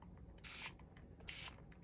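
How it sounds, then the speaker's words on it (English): Water misted from a spray bottle onto torn comic book paper pieces during mending of a Superman #9 issue, two quiet hissing bursts about a second apart, each lasting a fraction of a second. "what I'm going to do is spray it"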